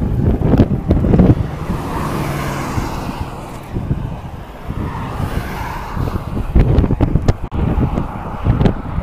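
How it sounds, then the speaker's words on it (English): Strong wind roars and buffets the microphone during an outdoor ride, loud and continuous with gusting surges throughout. "Can you hear the wind?"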